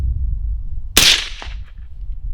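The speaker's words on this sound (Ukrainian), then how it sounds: "Працюємо три постріли." A gunshot through a STEEL Gen 5 suppressor with double gas relief, one sharp crack with a short decaying tail outdoors, loud and alone.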